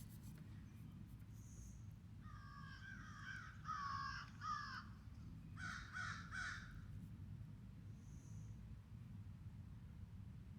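Several crows by a lakeside caw in a few clustered bursts of harsh, repeated calls, fairly distant over a quiet low rumble.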